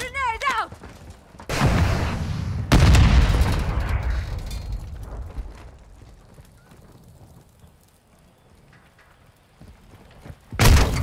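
A grenade blast goes off in Modern Warfare II, a broad loud burst around mid-clip amid sharp gunfire-like bangs, the rumble decaying over several seconds before another sharp hit at the end.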